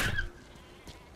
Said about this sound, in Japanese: あ、羊がいる。